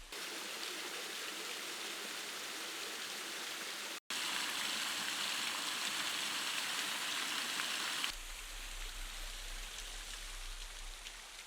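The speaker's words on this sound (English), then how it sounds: "I'm going to try and get a nice shot of this waterfall." A waterfall pours in a steady, dense rush of water that stays loud and continuous throughout, cutting out for an instant and then continuing with a slightly thinner tone near the end. No voices are heard.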